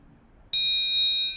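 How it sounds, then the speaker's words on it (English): A metal triangle struck once with its beater, a bright ringing tone that starts suddenly and sustains evenly to the end, loud and close with no talk. "It's a triangle."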